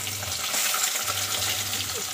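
Water runs steadily from a kitchen tap in a continuous splashing hiss, with a low hum underneath that briefly drops out.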